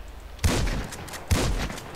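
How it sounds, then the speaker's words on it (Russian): Gunfire from weapons in the video game GTA 5: two loud, sharp shots about a second apart, each with a short booming tail, with no speech. "А что будет, если мы с оружия начнем стрелять?"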